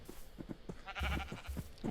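A blocky sheep in the video game Minecraft bleats in a string of short, nasal calls, repeated several times at close range over quiet game ambience.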